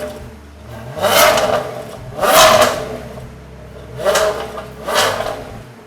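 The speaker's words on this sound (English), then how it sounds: "give it a quick rev, and you'll hear what 400 horsepower of Ferrari-derived V8 sounds like" A 2007 Maserati Quattroporte Sport GT with a 400-horsepower Ferrari-derived V8 is revved four times in quick blips, each rising and falling back to a low idle, close and fairly loud.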